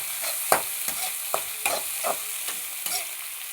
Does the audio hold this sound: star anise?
yes